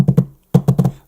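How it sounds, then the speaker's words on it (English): Fingertips tap out a drum pattern on a desk in two close, quick bursts of soft dull thumps separated by a short pause. "Play with your fingers on a desk."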